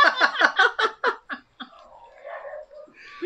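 A small dog whimpers and yelps in a rapid run of high, whiny cries close by, trailing off into a drawn-out whine.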